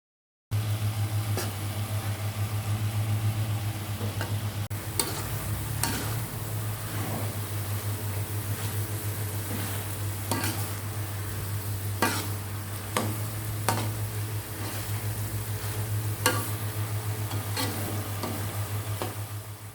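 Potato and carrot curry filling for Betawi pastel stirred and simmering in a pan, steady sizzle and bubbling under regular scraping strokes of a utensil, with a low continuous hum throughout and no talk.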